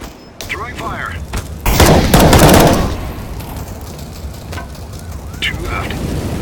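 An incendiary grenade is thrown in the Counter-Strike video game, with a loud burst of flame and crackling fire that lingers, and voices talking over it.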